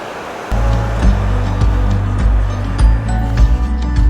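Strong flowing water at Abhigandhi waterfall, a loud, sustained low roar that starts abruptly and carries on with rumbling, buffeting surges close by, no voices.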